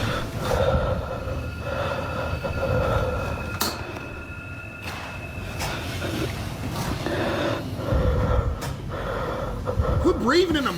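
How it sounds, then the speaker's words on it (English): Close, heavy breaths puff rhythmically into the microphone over a noisy, rumbling background, with occasional sharp clicks. "Quit breathing in the mic."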